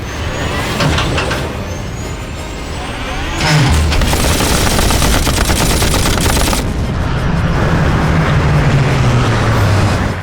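Sustained machine gun fire from a Hindi-dubbed war-horror film set beneath the ice, a loud continuous rattling barrage with heavy rumble and a descending whine running through it.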